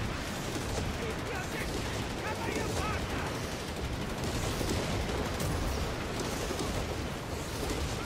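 Whizbang rocket artillery firing in the strategy video game Company of Heroes 3, a dense continuous roar of launches and explosions with scattered gunfire, under a voice.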